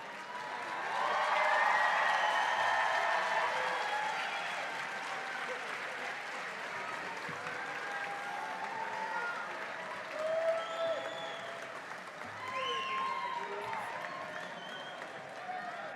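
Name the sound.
audience applauding at dental white coat ceremony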